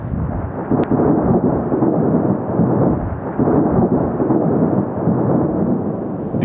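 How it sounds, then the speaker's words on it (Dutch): A heavy thunderstorm in Damaraland, with deep rolling thunder rumbling loud and continuous in long low waves, heavy and close with no speech. "Nie lang daarna nie, het hierdie swaar donderstorm losgebars."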